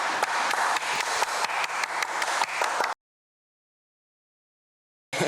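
Slow, evenly spaced clapping from a small group on a beach at Bondi, about a dozen loud claps over three seconds, then a stretch of silence before the clapping resumes briefly at the end.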